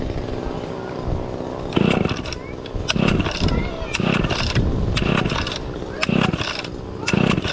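A small two-stroke chainsaw engine is pulled repeatedly with the choke set, giving a series of short rough bursts about once a second. It sounds close and fairly loud, with people talking between the pulls.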